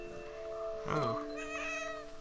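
A cat meows in the game What Remains of Edith Finch, a single short close meow over a steady tonal background drone.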